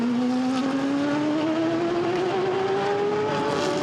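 GT race cars in a Blancpain GT Sports Club qualifying race at Misano roar past in a continuous loud engine drone, one car's pitch climbing steadily as it accelerates through the gears.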